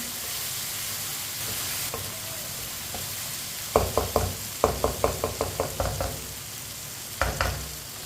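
Spices fry in a pan for a meat curry, a low sizzle running throughout, while a spoon stirs and scrapes, giving a quick series of sharp knocks against the pan in the second half.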